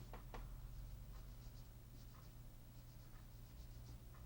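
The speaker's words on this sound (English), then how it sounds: "I'm just going to write to the song here." A pen writes words by hand on paper, giving faint scratchy strokes in short bursts over a steady low background hum, very quiet and close.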